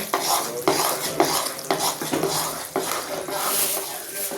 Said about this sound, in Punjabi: ਹੁਣ ਅਸੀਂ ਜਿਹੜੇ ਮਗਜ਼ ਤੇ ਖਸਖਸ ਭੁੰਨੇ ਸੀਗੇ ਉਹਨਾਂ ਨੂੰ ਮਿਕਸ ਕੀਤਾ ਪੰਜੀਰੀ 'ਚ